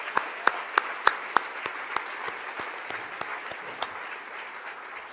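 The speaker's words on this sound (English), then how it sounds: "How about one more round of applause for all of our winners?" An audience at a military child education coalition event applauds the award winners, with a few sharp louder claps standing out over a fairly faint, steady patter of clapping that slowly thins out.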